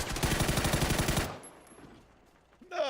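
Gunfire hitting the players' vehicle in PUBG on console: a loud, rapid automatic burst of about a dozen shots in quick rhythm. It cuts off abruptly and fades into quiet.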